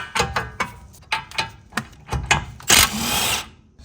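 A power tool works on a 17mm nut at the bottom of a shock absorber on a 1991-1996 Acura NSX, with a string of short ratcheting bursts followed by a longer continuous whir, loud and close.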